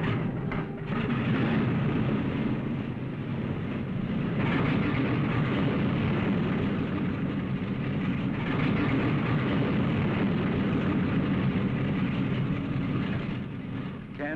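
A fixed-wing airliner drones steadily in flight, a broad, even engine roar that holds loud and constant from start to finish.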